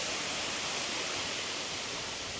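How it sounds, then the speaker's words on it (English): Water running straight through a vent and out into side drainage inside Standedge canal tunnel, a steady broad hiss of flowing water, faint and continuous with no voices. "the water is just running straight through and out"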